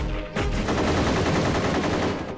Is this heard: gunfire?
yes